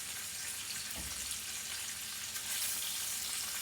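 A chicken fillet fries in hot oil with a steady, bright, close sizzle and crackle. One soft knock sounds partway through, and no voices are heard.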